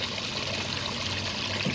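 Backwash water sprays steadily from the hose of a Bestway pool sand filter onto the ground, a constant close hiss and splatter with no break.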